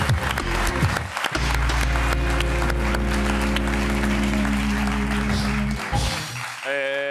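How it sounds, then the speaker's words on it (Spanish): A studio audience on a Spanish late-night television show applauds loudly over sustained, droning music from the set. Near the end the clapping and music cut off abruptly. "Un aplauso para Jorge Ponte."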